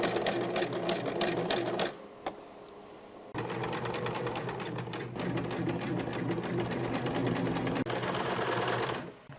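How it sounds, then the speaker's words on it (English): A sewing machine stitches upholstery for a seat cushion on a 1946 Willys CJ2A Jeep, running in fast, steady mechanical bursts with a brief stop and restart, close by, with soft voices in the background. "We're going to start sewing, we said, down in here."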